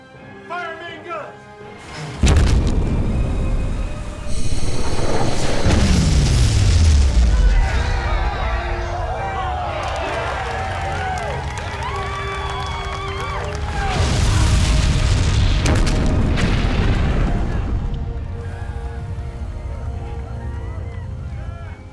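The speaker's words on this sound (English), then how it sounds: "Fire main guns!" Warship main guns fire in a sci-fi naval battle, with heavy booms and rolling explosions in two big bursts over a dense, roaring battle din, voices shouting amid the blasts.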